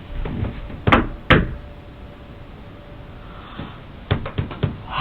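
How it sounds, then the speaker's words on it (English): A handful of sharp knocks sound on a door or wooden surface in a reportedly haunted hotel: two loud raps, a pause, then a quicker cluster of four, with a faint background hum between. "Okay, she's solid. Knock again."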